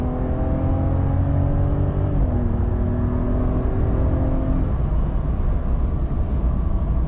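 Engine of a 2025 Ram 1500 RHO pickup accelerating on a highway, a steady loud drone with rising tones that shift down partway as it gears up, heard continuously with no talk over it.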